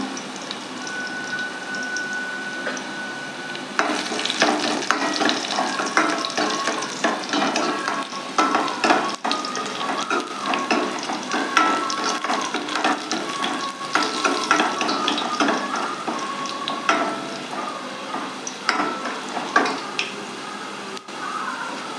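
Onions fry in hot oil for the tempering of Tirunelveli paruppu kulambu, a continuous crackling sizzle with frequent spatula stirs and scrapes against the pan, steady and close for the whole stretch.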